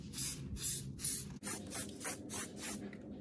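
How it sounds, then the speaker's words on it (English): A spray bottle gives about seven quick, close hissing bursts onto window privacy film in a steady rhythm, with a short click midway through. "I'm also going to spray the side of the window film"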